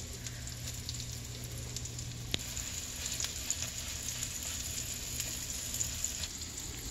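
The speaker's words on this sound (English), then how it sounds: "Just spread them thin. That way they don't burn on the outside before they cook on the inside." Pumpkin fritters fry in a pan with a steady, quiet sizzle and faint crackle throughout, with a single sharp tick midway and no talking.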